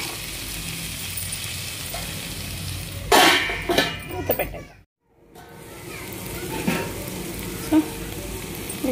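Ginger garlic paste fries in a pan for tomato chicken curry, a steady close sizzle with a burst of stirring around the middle, a brief drop to near silence, then frying resumes.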